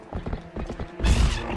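Hooves of the horse Epona gallop in a quick, steady clip-clop rhythm in the video game Twilight Princess, close and fairly loud, ending in a louder, rougher burst of noise.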